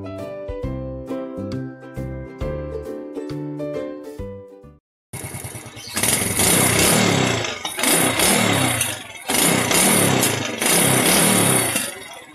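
Yamaha motorcycle engine running with a faulty exhaust that keeps backfiring, loud and close, with a rough revving roar broken by bursts; a short musical tonal passage comes first, then a brief gap before the engine.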